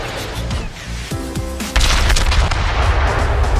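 Naval gunfire in the World of Warships video game, with heavy shell blasts and booming reports over a loud, dense background of game engine and ocean noise, the intensity rising midway.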